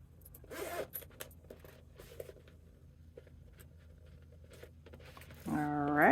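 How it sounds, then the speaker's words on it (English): A zipper on a sewn crossbody bag is pulled in a couple of quick, close scraping strokes, followed by quiet handling noises, with a voice starting at the end. "what you want to do is pull your zipper like this"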